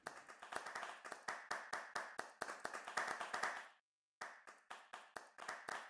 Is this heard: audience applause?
yes